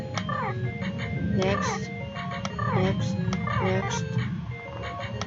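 Electronic chiptune-style music and bleeping effects from the Club Penguin game Thin Ice play steadily in short repeating melodic phrases over a low background hum, with a voice talking briefly.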